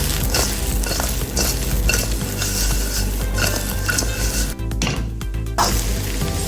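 Chilli fish fry being stirred in a pan, with continuous loud frying and metal scraping and clattering of a spatula against the pan, close by and dense throughout, without speech.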